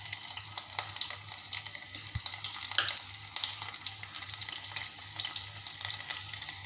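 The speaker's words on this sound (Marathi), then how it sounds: "आपला छान असा कांदा मौसूत होईपर्यंत मी भाजून घेणार आहे" Onion fries in a pan for a spicy Maharashtrian vegetable dish, making a constant close hiss with occasional faint stirring clinks. No one speaks.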